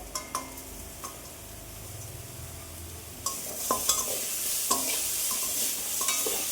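Grated coconut and jaggery are stirred in a pan: a spoon scrapes and taps in irregular clicks over a soft, steady sizzle.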